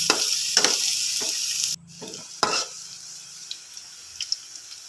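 Garlic, onion and a sliced jumbo hotdog sauté in a pan with a hissing sizzle that drops abruptly midway, followed by quieter intermittent crackles and a few clinks of a utensil.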